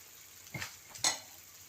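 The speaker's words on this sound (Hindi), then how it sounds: "सिर्फ 2 मिनट के लिए सब्जियों को पकाना है" Vegetables cook on high flame in a pan, a low sizzle under two quick stirring strokes that scrape and clatter about half a second apart, heard alone without talk.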